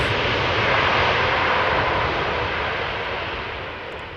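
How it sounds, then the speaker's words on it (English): An airliner landing at Amsterdam Schiphol Airport roars as its thrust reversers engage, a broad, powerful rumble that is loud and sustained, easing slightly toward the end. "well, the thrust reversers definitely work."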